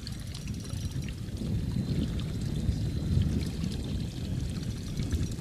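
An electric trolling motor pushes a fishing boat, giving a steady, close wash of churning water and low rumble that holds evenly throughout with no talking.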